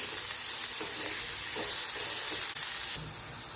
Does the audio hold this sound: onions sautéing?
yes